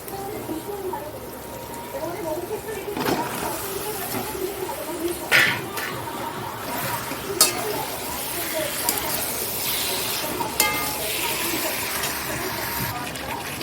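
Meat dropped into a hot pan for a home-cooked meal for guests, giving a steady broadband sizzle with sharp scraping bursts from stirring, while voices talk over it.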